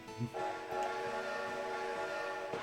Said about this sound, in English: And the train takes off